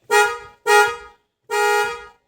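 A car horn, wired to a central locking system, honks three times, loud and close: two short blasts in quick succession, a pause, then a slightly longer third one.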